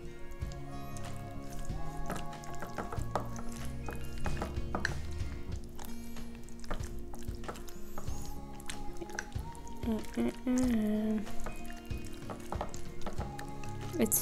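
Beetroot salad being mixed in a bowl, wet squishing and light clinking stirs in an irregular rhythm, with background music or tones and someone speaking at times.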